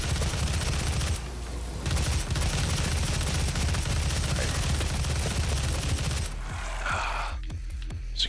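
Rapid gunfire from the Doom SnapMap level "Chapter 1 - Detention" pounds almost without a break, loud and dense, and a grenade is thrown against security enemies. The barrage drops off toward the end, with a few scattered impacts.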